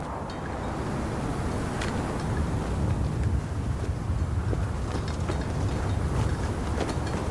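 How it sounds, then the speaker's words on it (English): Wind blows across a highway during a sniper mission in Modern Warfare, a steady low rumbling gust with faint mechanical clicks. "Nothing but the wind."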